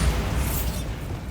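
A Bombarda blasting spell goes off in Hogwarts Legacy as a brief, loud, dense burst with a mechanical crackle and rumble that fades quickly, heard on its own with no talking.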